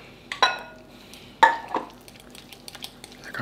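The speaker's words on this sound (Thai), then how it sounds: "แล้วก็คนไปเรื่อยๆได้เลย" Mashed potatoes being stirred in a pot, heard as a few sharp clinks and scrapes of a utensil against the pot's side, with softer mushy stirring noises between them, close and fairly quiet.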